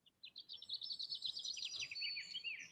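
Birdsong, a bright run of rapid chirps and trills that flows almost without pause, close and clear above a soft background murmur, with no voices.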